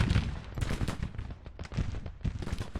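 Musket volleys crackle in a Civil War battle in the far West, with dense overlapping shots in ragged bursts and rolling reports, loud and close for nearly three seconds.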